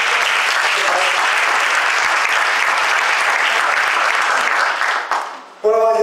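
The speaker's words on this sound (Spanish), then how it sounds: "Un aplauso para Jesús." Audience applause at a talk on design, AI and voice assistants: loud, dense clapping from a crowd that holds steady, then fades out quickly before a brief burst of speech.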